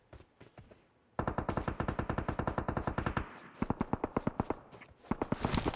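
Gunfire in the PUBG battle royale game: a few scattered shots, then long rapid bursts of close automatic fire in a steady rattling rhythm, broken by short pauses, with no talking.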